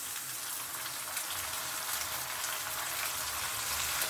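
Chopped tomatoes, three of them, dropped into a frying pan with cashews for a Punjabi-style kaju paneer curry, giving a steady, even hiss of sizzling that fills the whole stretch without pause.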